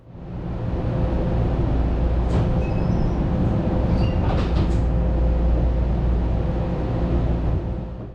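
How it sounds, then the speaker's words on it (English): A BART commuter train pulls out of North San Jose station with a steady, loud, close rumble of wheels and motors, a faint high whine running through it and a few brief squeaks and clicks partway along. "And we depart North San Jose on time at 11 minutes past 1 in the afternoon."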